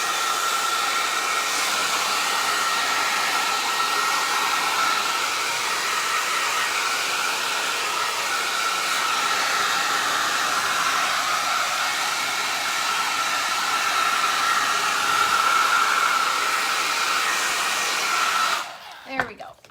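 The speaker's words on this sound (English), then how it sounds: "I'm going to take and shoot it with my hair dryer" A hair dryer blows steadily and loudly for the whole stretch, a constant whooshing roar that cuts off abruptly at the end.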